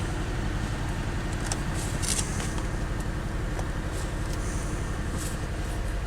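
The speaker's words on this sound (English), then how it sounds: "I can tell by the sound of it that's the V6" A V6 car engine idles steadily at an auction yard with a low, rumbling drone, close and continuous, with faint clicks and rattles over it and no talking.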